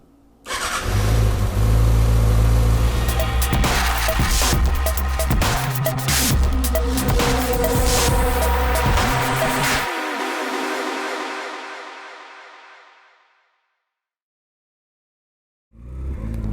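A 2019 Kawasaki Ninja ZX-6R sport motorcycle engine roars and revs loudly for about ten seconds at night, then fades away into the distance, leaving silence before it returns briefly.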